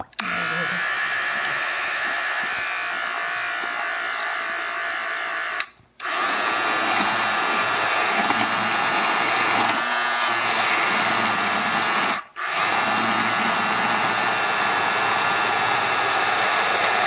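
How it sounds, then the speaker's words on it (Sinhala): A blender whirring through crepe batter made with salt and flour, a loud steady motor roar running almost continuously, cut off twice by short stops before starting again. "මේක හොඳට බ්ලෙන්ඩ් කරගමු"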